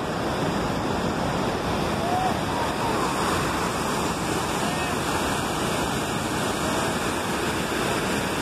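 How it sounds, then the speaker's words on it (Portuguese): Cascading water at Cachoeira do Urubu in Piauí pours over rocks in a constant, dense rushing roar, loud and close, with no break and no voices. "E essa cascata, ela costuma ter um volume de água maior ainda que vocês veem."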